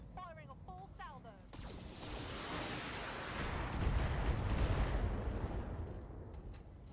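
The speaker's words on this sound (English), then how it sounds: "Firing a full salvo." A BattleTech mech fires a full weapons salvo, a broad roaring barrage of blasts that swells after a brief voice at the start and holds loud for several seconds before fading.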